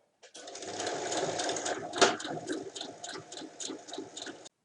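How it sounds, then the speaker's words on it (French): A sewing machine runs steadily while stitching a bag seam, starting five centimetres down and locking it with a backstitch. The needle hammers out a fast, even rhythm that surges briefly near the middle and stops cleanly at the end. "je commence à piquer à 5 cm et je fais un point d'arrêt"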